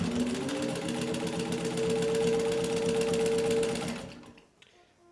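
A restored Singer 15-91 sewing machine stitches through thick denim at a pocket corner with a fast, even mechanical chatter for about four seconds, then stops abruptly.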